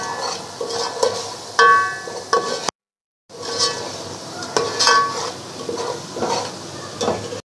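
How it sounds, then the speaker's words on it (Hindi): Salt and crushed red chili fry in a hot pan for paya, a steady close sizzle broken by brisk stirring scrapes, with one short silent gap partway through, and no talk. "इसको डाल के थोड़ा सा फ्राई करेंगे।"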